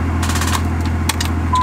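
A truck with a dead battery cranks over and over without catching, a rapid rhythmic chugging of the starter over a steady low engine-bay hum, with a brief electronic tone at the end.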